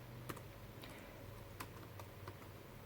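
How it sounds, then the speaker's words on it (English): Keystrokes on a computer keyboard, a few sparse, quiet clicks in a short burst at moderate distance over a steady background hum, with no talking. "so I type in thank you for"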